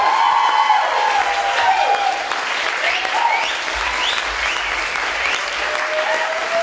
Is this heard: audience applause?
yes